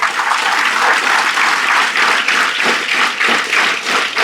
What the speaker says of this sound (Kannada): ಇದ್ರ ಮೇಲೆ ನೀವು ಜೋರಾಗಿ ಚಪ್ಪಾಳೆ ಹೊಡಿಬೋದು